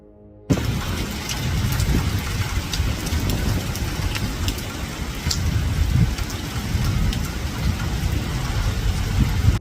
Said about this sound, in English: Heavy rains have caused severe flooding in parts of northwest Florida.